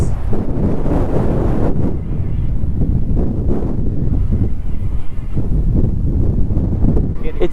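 Strong gusty wind buffets the microphone on open water, a dense, roaring rumble that surges and swells without letup for the whole stretch.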